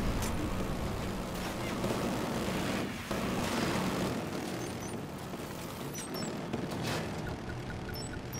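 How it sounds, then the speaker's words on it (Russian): An aircraft roars overhead in the Killzone Shadow Fall shooter, a loud continuous engine drone filling the scene with a brief dip partway through. "Самолетик ебучий."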